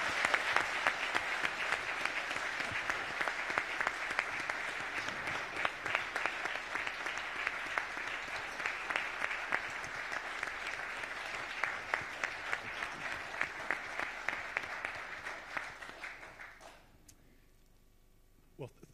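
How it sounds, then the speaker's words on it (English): A lecture audience gives a long round of applause for the speakers after a talk on writing the history of the Second World War, steady dense clapping that fades out near the end, leaving near silence. "So just one last round of applause for our speakers."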